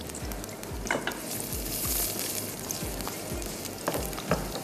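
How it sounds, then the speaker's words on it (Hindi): Onions fry in a pan on a home stove while making Lehsan Walay Chawal (garlic rice), a steady close sizzle with occasional soft clinks and stirring scrapes, and no voices. "मैं प्याज यहाँ पर रख देती हूँ अच्छी सी फ्राई होने के लिए"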